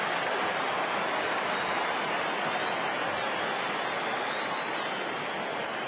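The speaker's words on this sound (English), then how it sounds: "Bit of noise from the Adelaide crowd." Steady roar of the Adelaide home crowd at an AFL match against Essendon, a dense wash of distant cheering and murmur that holds evenly throughout with no commentary over it.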